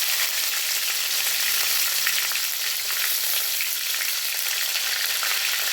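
Black pepper, curry leaves, green chillies and ginger sauté in a hot pan for kara chutney, giving a steady, dense sizzle with faint stirring scrapes throughout, close and even in level, with no voices.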